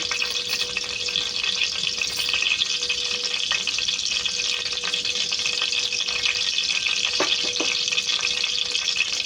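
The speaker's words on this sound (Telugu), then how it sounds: "ఇందులో ఆనియన్, పచ్చిమిర్చి ఇందాక కట్ చేసి పెట్టుకున్నాం తాలింపు కోసం, అది వేసుకున్నాం." Chopped onions and green chillies frying in hot oil for a tempering, the base of a spicy Andhra-style mutton intestine curry; a steady, close, loud sizzle with occasional stirring clinks throughout.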